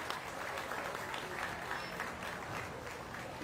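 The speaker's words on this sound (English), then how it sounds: "Let's go ahead and give these kiddos a big round of applause." Crowd applauding children in the show ring at a county fair swine show, a soft, even patter of clapping that sounds somewhat distant and stays steady throughout.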